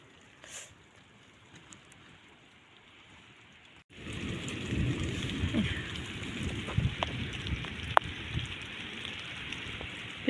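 Rain starts falling outdoors on a walk home past small apple trees, a steady hiss of drops that swells suddenly after a quiet opening and continues evenly, close and moderately loud, with a few sharper patters.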